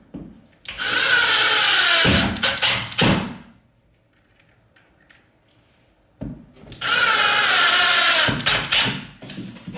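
A power drill drives screws into wooden backing inside a wall while a hole is being patched. Two long, loud whirring bursts are broken by short stuttering pulses, with a quiet gap between them.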